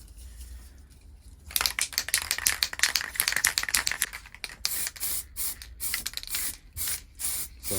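Lacquer paint being sprayed onto a part from a barn-find Honda VFR400 NC30 motorcycle under restoration: light coats go on in a series of close hissing bursts, steady at first and then broken into short separate passes.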